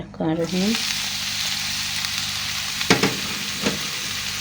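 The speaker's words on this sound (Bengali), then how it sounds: "এই পেজের কলিগুলো এখন আমি বাজি করব ডিম দিয়ে" Pumpkin flower buds fry with egg in a pan, giving a steady, close hiss and sizzle with a couple of sharp stirring scrapes; a brief voice sounds at the very start.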